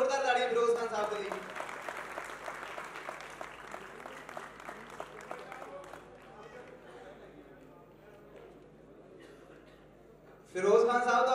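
An audience at a live music academy show claps in steady applause that gradually thins and quiets, then a sudden loud burst of sound returns at the very end.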